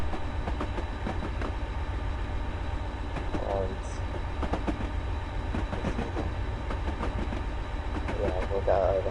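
A train passes through a station in the Train Simulator video game on the Settle to Carlisle line, with a continuous loud rumble and rhythmic wheel clatter. Faint squeaks appear near the end of the passage.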